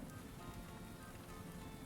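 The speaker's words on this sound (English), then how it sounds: "a thunder and rain sounds for sleeping black screen, like 10 hours long" A dense, steady rain recording made for sleep sounds plays as an unbroken wash of drops, with no distinct thunder clap in this short stretch.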